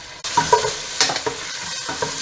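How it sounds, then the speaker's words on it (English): Ham fries in hot oil with a steady, close sizzle, broken by a few stirring scrapes and crackles. "But you can still hear the sizzling."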